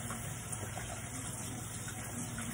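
Steady rushing warm tap water pours continuously as an implement is rinsed under it, with no talking.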